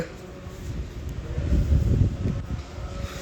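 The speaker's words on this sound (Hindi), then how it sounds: "ओ भगवान कैसी हवा चल रही है, जो हवा है ये" Strong wind blows outdoors, a steady low rumble with gusting surges that swell in the middle, buffeting the microphone.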